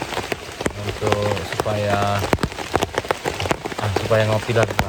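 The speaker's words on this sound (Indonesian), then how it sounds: "nggak tahu berapa jam lagi hujannya berhenti ya" Steady rain pattering at a campsite during a night of camping, a dense continuous hiss with scattered drip taps, while someone talks over it.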